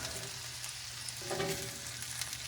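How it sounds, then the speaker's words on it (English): Steak sizzling on an indoor grill, a faint continuous crackling sizzle under a low steady hum, with a slightly fuller burst midway through and no speech. "Steak still cooking"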